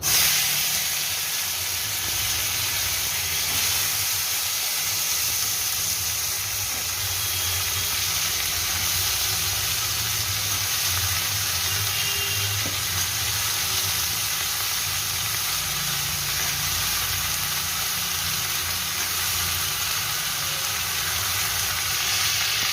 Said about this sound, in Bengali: ফোড়নটা হয়ে গিয়েছে এবার আমি টমেটোগুলো এর মধ্যে দিয়ে দেবো